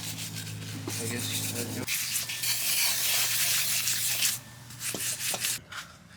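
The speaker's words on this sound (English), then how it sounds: "scrub it in with wire brushes, little by little" Wire brushes scrubbing parts from a BMW E46 engine bay, a harsh, close rasping that rises and falls in strokes, with a brief spoken remark at the start.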